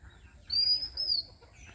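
An oriental magpie-robin (doyel) calling in a village, a single thin high whistled note drawn out for under a second over a faint low background rumble.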